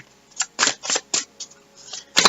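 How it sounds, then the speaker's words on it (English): Oracle cards being shuffled by hand in a series of crisp riffling bursts, about seven quick papery flurries at an uneven rhythm, close and clear with no talking. "I'll give it one more shuffle"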